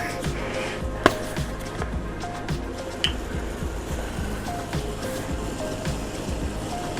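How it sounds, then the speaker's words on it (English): Water boils in a pot in a home kitchen, a steady bubbling and rumbling with scattered small pops and clicks, close by. "Our water is boiling here now though"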